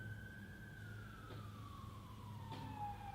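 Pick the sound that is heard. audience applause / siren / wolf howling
siren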